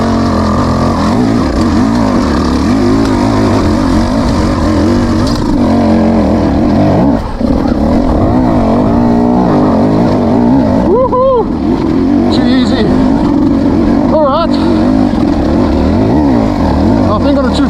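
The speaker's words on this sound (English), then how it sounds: "I'm going to stand still, stay in second gear, and see how it pulls from second" A 2026 Beta 200 RR X-Pro dirt bike pulls from a standstill in second gear, its two-stroke engine loud and close throughout, rising and dipping in pitch with a couple of sharp revs near the end.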